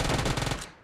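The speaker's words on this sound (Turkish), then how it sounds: "Oha nasıl sıkıyor lan bu?" Rapid automatic gunfire in a first-person shooter video game, a dense burst of close, loud shots that cuts off abruptly and leaves a brief quiet tail.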